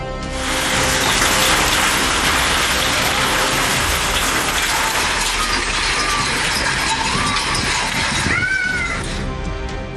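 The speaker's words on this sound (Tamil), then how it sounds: "வஞ்சிக்குழி, கிடாக்காடு உள்ளிட்ட இடங்களில் கனமழை பெய்தது." Heavy summer rain pours down during a storm in Tamil Nadu, a dense, loud, steady hiss of rainfall that continues unbroken throughout with a few faint, higher chirping sounds near the end.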